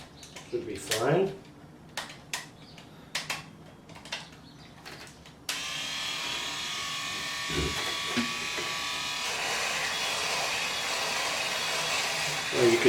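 An electric razor shaves off a beard, buzzing steadily and close for most of the stretch after a few short clicks and handling noises at the start.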